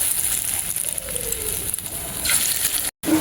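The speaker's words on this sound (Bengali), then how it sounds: "এখন এক এক করে সবগুলো ভেজে নিব।" Cabbage pakoras frying one by one in hot oil, a steady close sizzle with light crackle that cuts out abruptly for a moment near the end.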